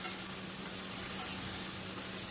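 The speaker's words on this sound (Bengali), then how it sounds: "এবারে সামান্য একটু জল দিয়ে মশলাটাকে ভালো করে কষিয়ে নিচ্ছি" A spice paste splashed with a little water fries in a pan for a Bengali egg and lentil dish, giving a continuous hissing sizzle that stays even and close through a brief stretch.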